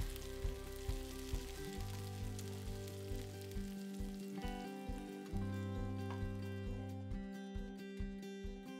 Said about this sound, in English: just a quick saute to take the bite of the onion out of it